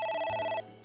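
A telephone rings in AI: The Somnium Files, a steady electronic tone that cuts off partway through, leaving a faint, quieter hum behind.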